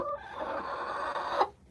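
Backyard chickens cluck and murmur steadily at close range, a continuous low chatter with one louder squawk near the end, with no talk.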